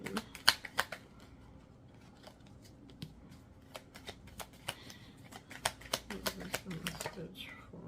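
Tarot cards being shuffled, a run of crisp riffling flicks and slaps at close range, quiet overall, with irregular bursts.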